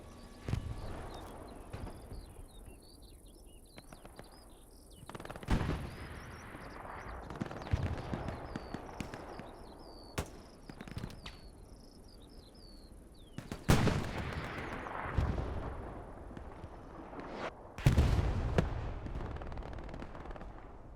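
Tiger tanks in a Kursk Windmills battle of a video game firing HE rounds, heavy booming shots landing at irregular intervals, the loudest near the end, amid rattling gunfire and battlefield clatter.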